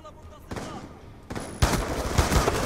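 M27 rifle fire in Black Ops 2, a few scattered shots first, then a rapid continuous burst of close automatic gunfire.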